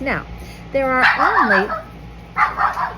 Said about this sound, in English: that's my dog saying hello to the squirrel.